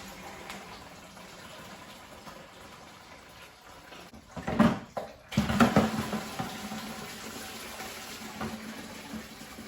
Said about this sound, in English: Now we got some coolant drainage.